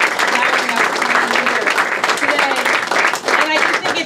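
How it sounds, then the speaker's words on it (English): Round of applause at a political speaking event at the Stonewall, a dense, steady wash of clapping from a crowd lasting throughout, with voices mixed in. "Let me also just ask everyone if they could give a round of applause to Stacy Lentz"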